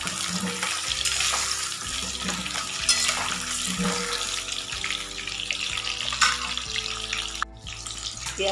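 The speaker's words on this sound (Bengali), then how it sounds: "দেখো আলু ভাজতে বেশি দিচ্ছি, আলুটা ভাজা হচ্ছে।" Potatoes frying in oil with onions added, a steady loud hiss and crackle running throughout with clinks of a utensil and background music underneath.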